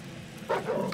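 Dogs in the video game Tomb Raider 4: The Last Revelation give a brief bark and yip in the second half, fairly faint under a steady background.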